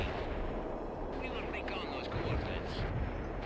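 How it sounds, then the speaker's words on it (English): Artillery fire in the strategy game World in Conflict: Soviet Assault, a low rumbling barrage of distant booms under continuous battle noise, with muffled impacts swelling toward the end. "My artillery's just been shooting at that the whole time."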